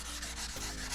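Dry guide coat over primer on a 3D-printed part is sanded by hand, giving a steady, close, soft rasping rub that runs through the whole second.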